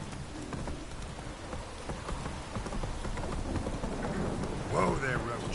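Steady rain falls in The Witcher 3: Wild Hunt as a dense, even hiss that continues throughout. Hoof clops can be heard faintly, and a voice briefly cuts in near the end.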